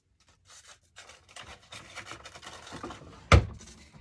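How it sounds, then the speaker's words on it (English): Sheet of sandpaper handled with soft papery rustles, then torn in one sharp, quick rip near the end; close and fairly quiet. "I'm going to take a piece of sandpaper,"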